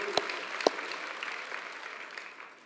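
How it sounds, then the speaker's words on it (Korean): A church congregation applauds together, a few sharp claps standing out at the start before the clapping settles into a steady patter that fades gradually. "박수로 한번 영광을 돌리죠"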